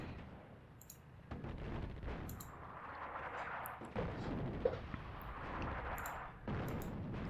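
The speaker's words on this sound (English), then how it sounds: "Let's get the artillery in and an airstrike." Artillery and airstrike explosions in the World War II North Africa video game Attack at Dawn: a steady, dense roar of distant rumbling blasts and crackling impacts, with sharper hits standing out now and then.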